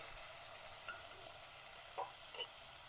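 Tomato, onion and peas sauté in oil in a pan, a steady soft sizzle with a few brief clinks and scrapes of stirring, fairly faint and with no talking.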